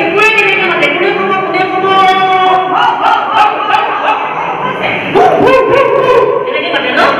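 Children's voices mimic a dog barking in a classroom, a chorus of yapping woof-like calls with whiny, yelping tones overlapping continuously and loudly, mixed with chatter.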